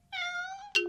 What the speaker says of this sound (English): Larry, we helped the kitty cat get down safely.